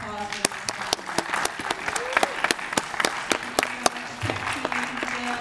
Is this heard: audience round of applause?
yes